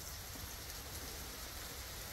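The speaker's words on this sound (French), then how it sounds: "mais il pleut fort derrière moi." Heavy rain pours down steadily outdoors at a temple in Shikoku, a dense, continuous hiss with no let-up and nobody talking over it.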